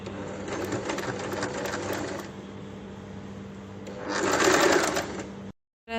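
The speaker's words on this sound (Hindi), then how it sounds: "पट्टी को अंदर मोड़ते जाएंगे और ऊपर सिलाई लगाते जाएंगे।" A sewing machine stitches a folded neck strip onto a baby frock made from old jeans, running in a close, steady whir that eases off briefly, then surges louder before stopping abruptly.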